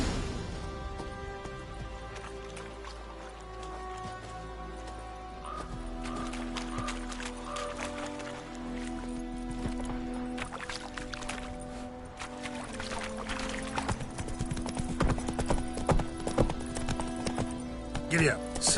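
Horse hooves clip-clop at a steady gallop in The Witcher 3, ridden across the game world beneath a continuous music score, with characters talking over the ride.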